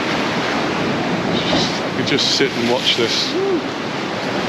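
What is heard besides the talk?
big ocean waves breaking on the shore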